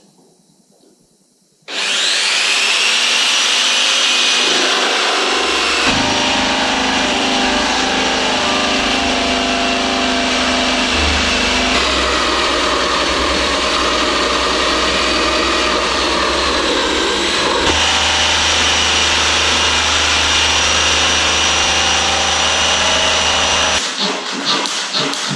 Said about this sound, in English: it would have just been better to do it freehand like I did here for the corners